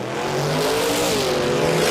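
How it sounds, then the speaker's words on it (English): Drag racing car launching hard down the strip at Willowbank during a Kenda Tires Radial Riot shootout night, a loud, continuous engine roar that builds steadily across the run with no talk over it. "Timmy, here goes Timmy. Look for the wheelie."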